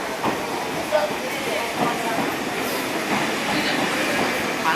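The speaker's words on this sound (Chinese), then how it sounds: "江之电车来了，你看" An Enoshima Electric Railway (Enoden) train arrives with a rolling rumble and light clattering of wheels, steady and fairly close, while a voice speaks over it.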